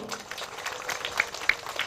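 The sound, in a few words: applause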